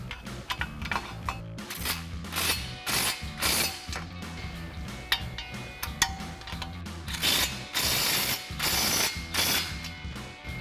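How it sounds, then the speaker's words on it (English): A ratchet with a 15mm swivel socket removes flange nuts during a Flowmaster FlowFX cat-back exhaust install on a 2021-2026 Ford Bronco. Loud, close bursts of rapid clicking repeat again and again, with no talk. "switch to my 15mm swivel socket to get my 2 flange nuts"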